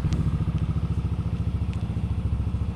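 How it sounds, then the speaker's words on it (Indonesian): A motorcycle engine idles close by with a steady, rapid chugging pulse, loud and continuous, with no voices. "nah motor hidup ya"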